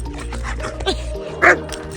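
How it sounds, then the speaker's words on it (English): A dirty dog outdoors gives two short, close yips or whimpers over a low, steady background rumble. "Look how dirty our dog is."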